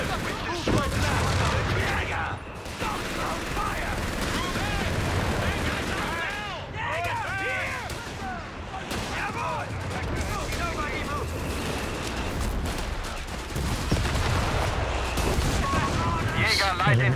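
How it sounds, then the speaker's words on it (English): Mortar rounds and rifle and machine-gun fire in the video game Company of Heroes 3 with a StuG D and Panther, a dense continuous battle din with booming impacts, under in-game soldiers shouting. "Mortar incoming!"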